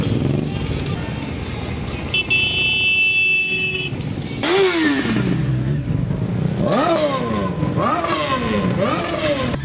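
Column of motorcycles from a motorcycle rally riding through a town square toward Zemplínska šírava: several engines rev and rise in pitch one after another as bikes pass nearby, over steady crowd and traffic noise.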